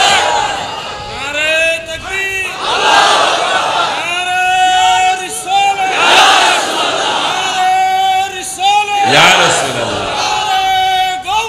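A crowd at a Bangla religious sermon gathering loudly shouts the takbir chant 'Allahu Akbar' in repeated swelling waves, many voices together, with a leader's voice calling between the responses.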